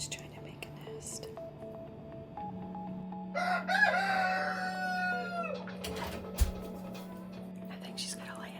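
A backyard hen at a nesting box giving drawn-out clucks and a rising, squawking call in the middle, close by, with soft whispering voices underneath and a steady low hum throughout.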